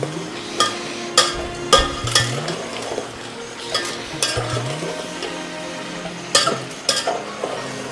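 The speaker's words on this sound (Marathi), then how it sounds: "चटणी टाकणार आहोत आपण आता 2च चमचे टाकायचे. ती छान परतून घ्यायची." Chutney is stirred and fried in a pan, with a soft sizzle running beneath scattered scraping and clinking strokes of the spoon against the metal, some louder knocks coming in small clusters.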